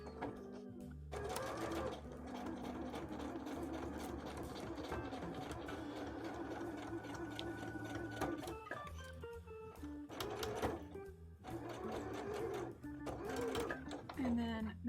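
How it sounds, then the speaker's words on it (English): A sewing machine stitching over the fold-over section of a handmade bra, running in quick rhythmic bursts with short pauses between runs, close up and moderately loud, with a person talking over it. "I'm just sewing over the fold over bit right now"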